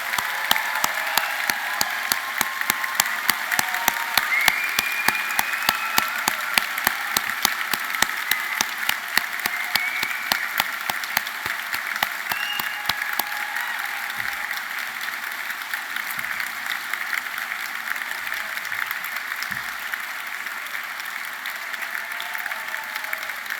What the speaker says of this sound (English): let's give this amazing group of people one last huge round of applause for what they've achieved